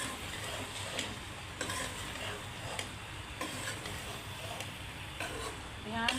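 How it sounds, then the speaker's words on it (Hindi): A spoon stirring cauliflower florets and potatoes in a pan, with soft scraping strokes and irregular ticks over a steady low sizzle, fairly close and quiet. "ध्यान से हमने चम्मच हिलाना है ताकि ये गोभी के फूल जो हैं वो हमारे ना टूटें"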